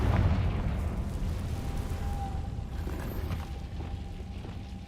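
A loud, sustained fire-spell explosion from the Hogwarts Legacy video game, with a dense rumbling blast and crackle that fills the whole clip before slowly fading, and no talk.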